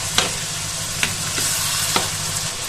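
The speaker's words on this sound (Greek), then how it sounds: "θα ανακατέψουμε πάρα πολύ καλά, ενώ ταυτόχρονα σβήνουμε την εστία" Stuffing with raisins and water stirred in a pan as the heat is turned off, a soft sizzle under a few distinct spoon scrapes against the pan, close by, without speech.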